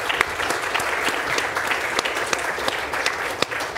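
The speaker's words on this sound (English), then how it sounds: "So if everyone wants to give Donal a round of applause, and Niamh." Audience at an evening talk on space exploration and health claps steadily for a round of applause, dense and even, with a few sharper nearby claps standing out.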